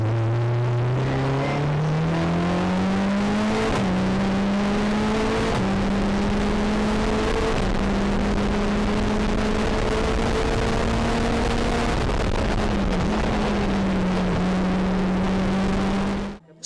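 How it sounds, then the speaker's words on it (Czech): A Lotus 7 race car, roughly 550 kg with 250 horsepower, revs hard and climbs through several gears, its engine note rising and shifting up repeatedly, loud, close and steady for the whole stretch. "přivezli jsme sem ukázat katrhem, je to značky Lotus 7, zhruba 550 kg váha, 250 koní"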